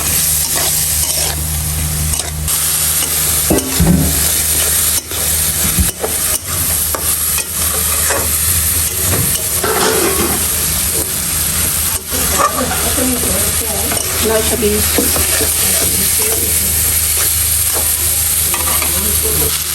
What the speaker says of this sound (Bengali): এই তো ডালটাকে এরকম মশলা সাথে কষে বাজা ভাজা করে নেবেন